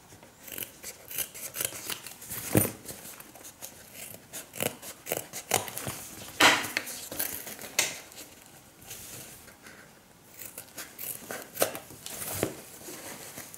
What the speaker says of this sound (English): now I'm going to cut away some bulk here on the corners